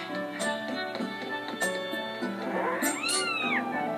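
A cat meows in the video game The Legend of Zelda: Skyward Sword, a few drawn-out, rising and falling yowls near the end over a steady musical background.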